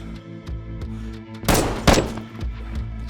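Gunfire in the survival game DayZ: a couple of sharp close shots amid softer thumps, with no talk.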